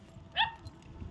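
A puppy at a village house lets out a single short, high yip, moderately close, against quiet outdoor background noise.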